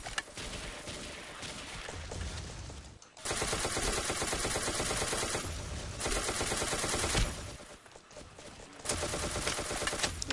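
Dense automatic gunfire rattles in long sustained bursts in the blocky shooter game Ace of Spades during a zombie mode match, loud and continuous with brief gaps between volleys.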